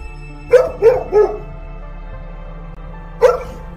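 A dog barks three times in quick succession, pauses, then barks once more, sharp and close over a low steady hum.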